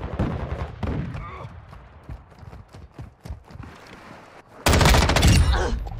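Rapid burst of M13 rifle fire in Modern Warfare 2, a loud dense volley erupting near the end after a stretch of quieter game sounds.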